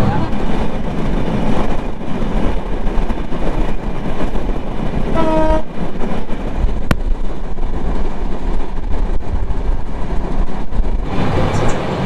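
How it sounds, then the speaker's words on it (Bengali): A train pulls into Narail station in Bangladesh with a steady, loud rumble of wheels and carriages. A short horn blast sounds partway through, then the rolling noise continues. "আমাদের ট্রেন এখন নড়াইল স্টেশনে প্রবেশ করছে।"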